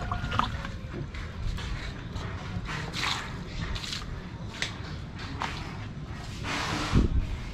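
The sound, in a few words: watering grape seedlings with fertilizer solution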